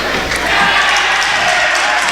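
A home crowd at a high school basketball game between Otter Valley and Proctor reacts with a loud, sustained roar of voices and jeers filling the gym, with no clear single voice above it.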